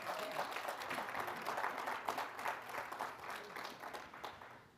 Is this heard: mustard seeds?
no